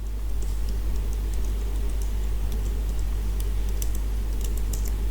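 Quick, light keystrokes on a computer keyboard while entering data in an Excel spreadsheet, soft irregular clicks running throughout over a constant low electrical hum.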